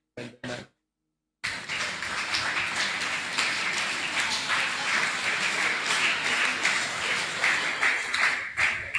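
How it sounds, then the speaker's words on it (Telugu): A church congregation claps loudly and continuously, a dense close wash of many hands that starts abruptly after a short pause and carries on without a break. "చప్పట్లు కొట్టాలి, కొట్టాలి, కొట్టాలి."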